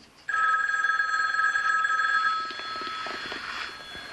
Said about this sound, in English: Want me to answer your phone?